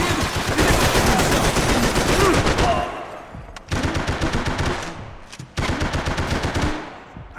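Heavy automatic gunfire in Max Payne 3, a dense continuous barrage followed by two more rapid bursts separated by brief pauses, loud and close.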